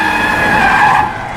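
Tires screech in a loud, steady skid for over a second as a car brakes hard to a stop inside a long tunnel, blocked by a crowd of police cars, with the squeal cutting off abruptly at the end.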